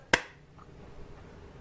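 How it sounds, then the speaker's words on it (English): A single sharp hand clap rings out close by, followed by quiet room tone with no talking. "I'm gonna clap my hands"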